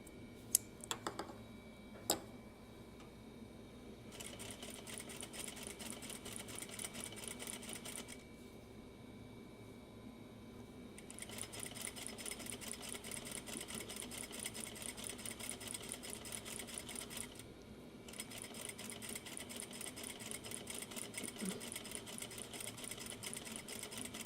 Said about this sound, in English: See, this is the kind of sewing that the Juki should be doing.